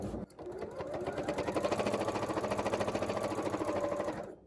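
A domestic sewing machine runs steadily with its feed dogs lowered for free-motion quilting, a fast, even mechanical stitching rattle heard up close and alone for several seconds.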